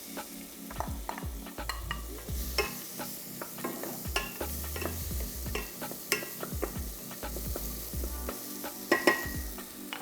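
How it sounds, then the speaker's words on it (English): Food sizzles steadily in a hot pan while a utensil stirs and scrapes through it in repeated strokes, cooking the base of a sea moss vegan stew. "let that sizzle sizzle."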